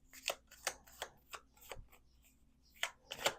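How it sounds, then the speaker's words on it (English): A deck of beautiful oracle cards is shuffled by hand in a run of crisp riffling bursts, about eight quick flurries with short pauses, close and clear with no talking. "Do two more shuffles."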